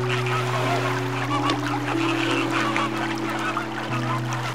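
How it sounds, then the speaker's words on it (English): Flock of flamingos calling at a geothermal lake with hot springs, a dense chorus of nasal, goose-like honks that overlap continuously at close to moderate distance. "flamingos."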